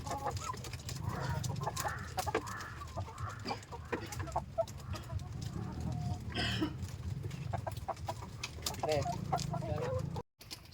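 Two-day-old broiler chickens clucking and peeping steadily in a close, busy chorus, with someone talking over them throughout.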